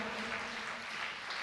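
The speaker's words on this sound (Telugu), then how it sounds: "చప్పట్లు కొట్టి దేవుణ్ణి స్తుతిద్దామా" A congregation claps hands in praise of God, a dense, steady wash of applause that carries through the whole short moment with no voices on top.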